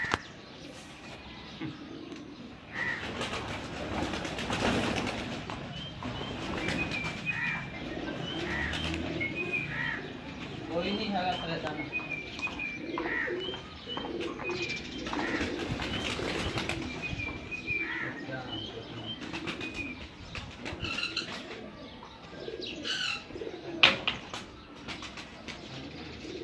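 Pet pigeons at a loft flap their wings and coo softly, a busy stretch of fluttering and calls, with a few people talking now and then in the background.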